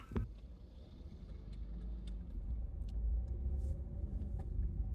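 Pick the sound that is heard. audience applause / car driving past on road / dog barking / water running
car driving past on road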